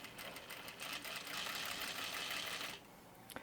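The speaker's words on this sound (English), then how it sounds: "I'm gonna top stitch all the way down." A sewing machine topstitches a cork wristlet strap at 1/8 inch, a steady fast whirring run close by that stops abruptly near the end, followed by a brief click.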